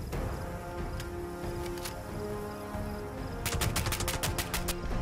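Gunfire in the video game Fallout 76, a rapid burst of about ten shots near the end, with a few scattered shots earlier over a steady game-ambience background.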